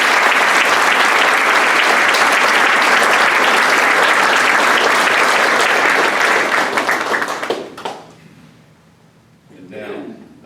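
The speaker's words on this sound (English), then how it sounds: "huge round of applause." A luncheon crowd honoring scholars breaks into loud, sustained applause for about seven seconds, then the clapping thins and fades out, followed by a brief stretch of quiet murmuring.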